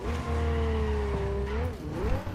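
Car tires skidding and squealing in the Cyberpunk 2077 video game, a sustained, sliding, loud screech that rises and falls over a steady engine rumble, with no talk.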